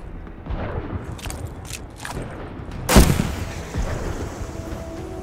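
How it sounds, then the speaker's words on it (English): Machine gun fire in Call of Duty: Vanguard rattles through a dense battlefield din, with a sharp loud burst near the middle and rumbling gunfire and blasts continuing around it. "Let me use the MG."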